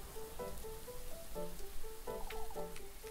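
Quiet, continuous rain falls in a video game (Little Goody Two Shoes), a faint hiss of drops under soft tonal game music notes.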